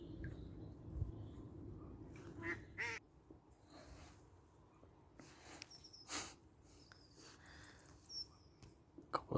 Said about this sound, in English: ducks coming in for a landing.